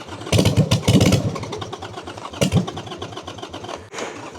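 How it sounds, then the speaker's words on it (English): A 2005 Harley-Davidson Sportster Bobber motorcycle cranks without starting, its starter churning in uneven bursts up close before settling into a lower, steady whir. "Let's see if she wants to start today. It's my 2005 Harley Davidson Sportster Bobber."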